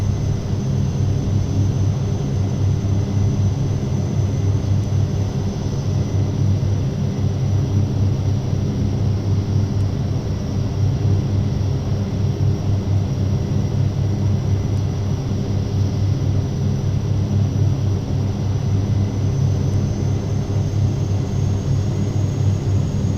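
A Carenado Shorts 360 twin-turboprop cruising in a flight simulator, a loud, continuous engine drone with a low propeller hum and a steady high whine, unchanging throughout.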